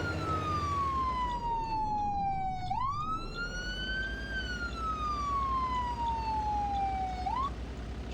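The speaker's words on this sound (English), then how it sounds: "Okay, Harvey, pull over to the side, turn off your sirens, and let me chat with you for a bit." A police car siren wails continuously and loudly up close, its tone sliding down, jumping back up, then falling again in a slow sweeping cycle, heard alone without talk.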